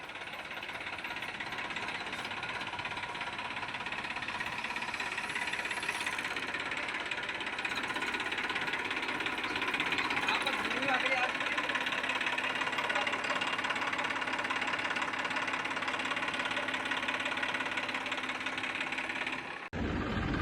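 A tractor engine drones throughout at constant loudness, a continuous mechanical rumble that cuts off abruptly near the end.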